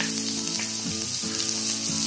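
Garlic frying in hot oil and butter over a medium gas flame, a steady close sizzle running unbroken, with faint stirring scrapes and a few low tonal hums underneath.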